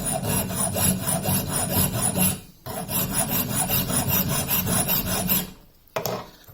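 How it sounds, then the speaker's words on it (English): A hand file works flat across a small balancing toy part clamped at an angle in a vise, giving loud, close, steady rasping strokes with brief pauses between passes. "I'm going to clamp it in the vise at an angle and still file flat like this."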